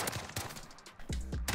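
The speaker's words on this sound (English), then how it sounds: "Okay, got the shots off on that man again." Gunshots in the video game Call of Duty Modern Warfare, during a Halloween Gunfight match: a few sharp, punchy shots in quick succession with short pauses between them, loud and close.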